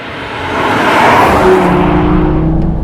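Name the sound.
Audi TT RS turbocharged five-cylinder engine accelerating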